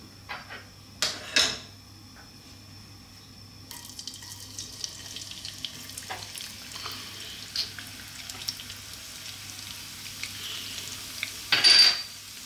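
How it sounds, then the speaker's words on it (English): Garlic cooks in hot oil in a pan for vegetable fried rice, a steady soft sizzle broken by clattering stirring and scraping knocks close by, with a louder burst near the end and no speech. "we're going to cook the garlic in the hot oil just for about 20 or 30 seconds"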